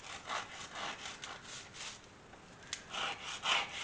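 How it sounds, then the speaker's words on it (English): Rhythmic back-and-forth sanding with 80 grit sandpaper on a small hair barrette piece, close and scratchy strokes roughly every half second, steady with a brief pause midway. "looks like it's 80 grit sandpaper, and I'm going to work on this"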